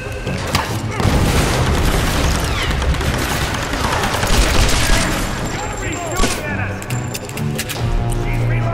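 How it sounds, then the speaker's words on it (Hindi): Explosions and bursts of gunfire from the video game Tomb Raider (2013) rage continuously and loudly, with heavy booms and rapid shots layered over game music, while someone talks throughout. "बम बारूद लेके आए हैं ये लोग"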